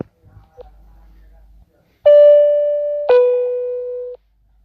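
A phone app plays its low battery notification, two loud sustained electronic tones in a row, the second slightly lower and stepping down, after a few quiet clicks and taps.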